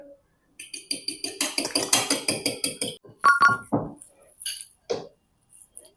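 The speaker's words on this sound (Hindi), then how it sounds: "एक एग लेके मैं इसको विस्क कर लूंगी" An egg being whisked in a bowl, with a fast, regular run of close, bright clinking taps of the whisk against the bowl, followed by a few slower scattered clinks.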